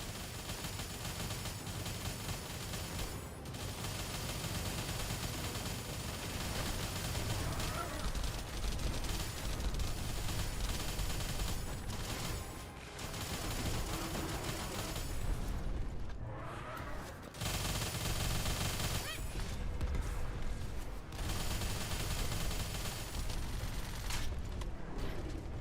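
Dense, continuous video game gunfire, with rapid overlapping shots and bursts running steadily throughout under a busy wash of action noise.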